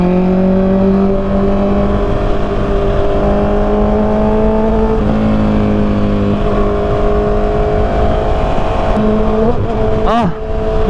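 Steady traffic on an expressway heard from a Honda CBR650R motorcycle in a low gear, with trucks around: a continuous loud engine drone with shifting tones and a brief sharp bump near the end.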